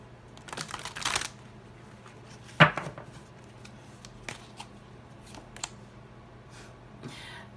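Tarot cards being shuffled by hand in a quiet room, a soft papery riffle near the start followed by a sharp snap and a few light, scattered card taps.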